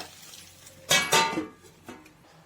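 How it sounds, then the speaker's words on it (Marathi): A metal lid is set on a cooking pot holding sabudana, giving two close, bright metallic clanks in quick succession and then a softer clink as it settles in a quiet kitchen. "त्याच्यावरती झाकण ठेवणार आहे मी एक पाच मिनिट"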